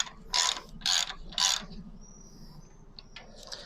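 Three quick ratcheting bursts as bike wheel axle nuts are spun by hand onto their threads, followed by a faint metallic squeak and light clicks; close and clear with no speech.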